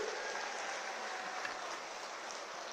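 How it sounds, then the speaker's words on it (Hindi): A large crowd claps steadily at a BJP election rally in West Bengal, cheering for four candidates: a dense, continuous wash of applause that holds at an even level throughout. "जोर से ताली बजाइए जरा चारों प्रत्याशियों के लिए"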